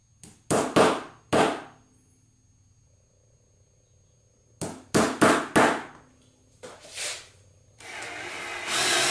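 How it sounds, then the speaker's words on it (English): A hammer strikes a center punch to mark a drill hole for door hinge and latch work, giving loud, sharp taps in quick clusters of two or three separated by silence, followed by a stretch of steady noise. "just make a little center punch hole, it makes starting that hole with the drill bit that much easier"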